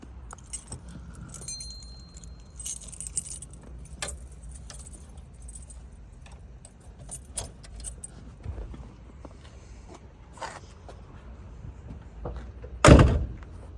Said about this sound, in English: Just look at how nice the door opens.